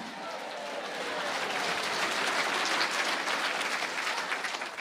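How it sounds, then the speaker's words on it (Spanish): A church congregation breaks into loud, sustained applause that swells and holds steady for several seconds before easing slightly, with crowd noise mixed in. "Fuerte aplauso"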